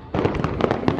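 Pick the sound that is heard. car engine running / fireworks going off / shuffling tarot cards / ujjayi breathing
fireworks going off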